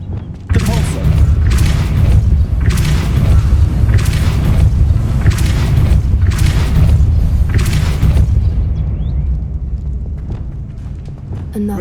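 The Depulso spell in the video game Merlin Beard fires as a run of about seven heavy, booming magical blasts in steady succession over a deep rumbling bed, loud and close, fading out at the end.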